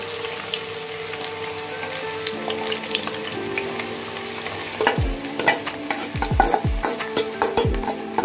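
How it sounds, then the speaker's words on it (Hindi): Chopped onions sizzle and crackle as they drop into hot oil already holding whole spices, and stirring scrapes mark the second half of the clip with steady frying underneath. "अब इसमें हम प्याज डालेंगे चॉप किया हुआ।"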